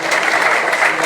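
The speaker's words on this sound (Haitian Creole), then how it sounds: "Nous battons bravo pour l'autorité centrale." Audience at a ceremony installing a new director general of Haiti's national police claps steadily, a dense continuous wash of applause with no pauses.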